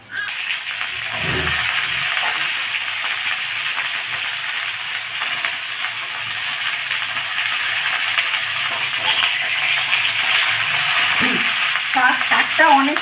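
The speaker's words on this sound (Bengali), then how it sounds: "এই যে শাক ধুয়ে রেখেছি এইবার শাকগুলো আমি দিয়ে দেবো" Washed greens, pumpkin stems and leaves, hit hot oil tempered with panch phoron, setting off a loud, steady sizzle with occasional stirring clatter near the end, no voices over it.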